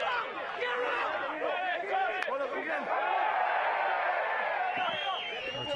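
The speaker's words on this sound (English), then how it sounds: "Argentinian fans cheering something" Argentinian rugby fans in a stadium during an Argentina versus USA match, a broad crowd roar and chatter with scattered whoops, steady and sustained, with a commentator's voice running over the top.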